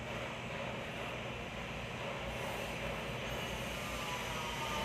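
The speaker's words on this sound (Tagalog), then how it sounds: "malaman natin na umiikot tong kanyang motor ng pan" An 8-inch exhaust fan motor spins during a test run, giving a steady, even whirring hum with airy noise, constant and moderately quiet throughout.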